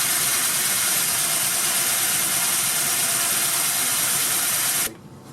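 A cheap Hyper Tough cordless drill runs steadily and loudly for about five seconds, boring holes in a continuous whirring drone before cutting off abruptly near the end.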